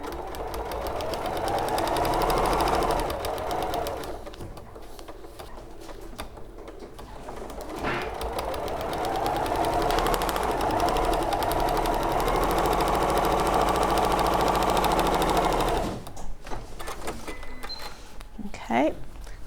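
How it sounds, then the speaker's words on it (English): A sewing machine runs in long steady bursts while stitching a fabric seam, with pauses between runs, close and fairly loud, mixed with bird cooing nearby. "And then sew again along that line."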